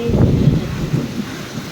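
A heavy thunderstorm rumbles low and close, with downpour and gusty wind buffeting the microphone throughout. The roar swells and eases without a break.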